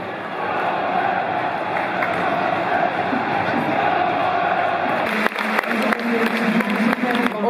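Massive football stadium crowd during a Bolton versus Portsmouth match, a broad roaring wash of voices that swells and stays loud throughout, with sharper shouts and claps rising near the end.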